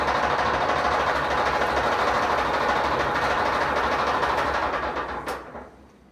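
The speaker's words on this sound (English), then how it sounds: "This is the Bravos Maytag Quiet Series 400 with steam dryer and started making a rattle noise." A Maytag Bravos Quiet Series 400 steam dryer runs with a steady, loud mechanical rattle and rumble throughout, then winds down and quiets near the end.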